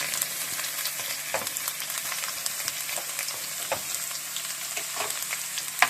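Garlic, ginger and cumin frying in hot oil give a steady crackling sizzle, with scattered sharper pops and occasional stirring scrapes, moderately quiet and without any voices.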